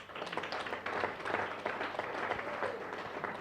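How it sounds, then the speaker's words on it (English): Attendees at a taxi association women's desk annual general meeting applaud themselves with dense, continuous clapping that fills the room evenly for several seconds at a moderate, slightly distant level. "If you could please give yourselves a round of applause."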